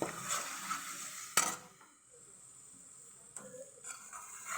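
Maida flour roasts in ghee over low heat with a soft, low sizzle, broken by a couple of sharp spoon clinks and scrapes against the pan.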